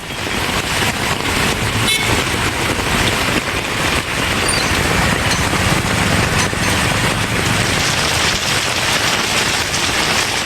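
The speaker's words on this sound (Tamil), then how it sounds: "2 மணி நேரத்திற்கு மேலாக இடி மின்னலுடன் பலத்த மழை பெய்தது." Heavy summer rain pours steadily in Tamil Nadu, a loud, dense wash with no clear thunderclap, while a car horn sounds faintly amid passing traffic.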